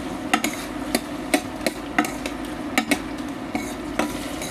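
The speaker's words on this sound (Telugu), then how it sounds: "ఇప్పుడు వీటన్నిటిని బాగా వేయించుకోవాలి" Onion, tomato and green chillies fry in a pan for veg kuska rice, with a steady low sizzle under a series of sharp spatula scrapes and taps against the pan, fairly close.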